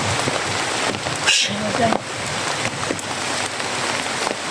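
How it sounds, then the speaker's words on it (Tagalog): Heavy rain pours down in a steady dense hiss, drumming on surfaces close by, while a person speaks briefly and other faint voices are heard over it. "malakas yung ulan"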